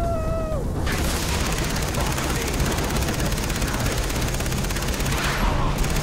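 Sustained gunfire from a first-person shooter set on a tropical island fills the whole stretch, loud, dense and continuous, with no pauses between bursts.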